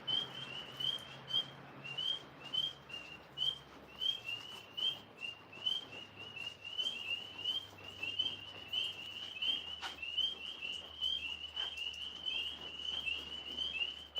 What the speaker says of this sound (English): I hear the tree frogs. They're coming out early.